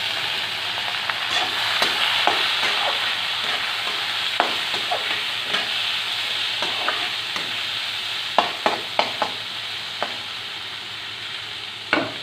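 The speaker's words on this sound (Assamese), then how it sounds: "এইবাৰ পিঁয়াজখিনি ভালদৰে ভজা হৈ গ'ল, তাত মই দি দিম মুগৰ দাইল, ধুই থোৱা মুগৰ দাইলখিনি। এইখিনি ভালদৰে ভাজি লওঁ।" Moong dal and onions sizzle steadily in a pan while a spoon stirs, giving scattered scraping clicks and taps over a soft, continuous frying hiss.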